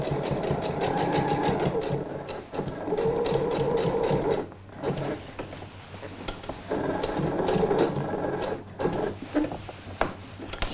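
A sewing machine topstitches a pair of Alfie trousers, running in steady bursts with brief pauses between stitching runs, close and loud, with faint mechanical clunks in the gaps.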